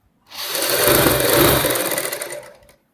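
A sewing machine double-stitches fabric for a girls' top in one close, continuous whirring burst of about two and a half seconds that starts and stops cleanly.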